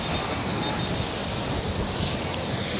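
Gentle sea waves wash steadily onto the shore at Tondaligan Blue Beach in Pangasinan, a continuous soft surf wash with some wind rumble, no talk.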